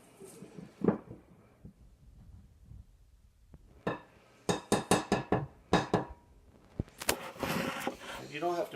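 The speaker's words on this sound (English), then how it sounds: "So we're mixing this so it looks kind of loose and kind of a shaggy dough." A spoon stirs loose, shaggy bread dough in a bowl, giving a run of sharp, close clinks and knocks in quick irregular bursts after a quieter stretch.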